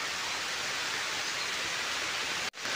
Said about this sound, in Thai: โอ้ยฝนตกพี่น้องตกลงมาเลยจ้า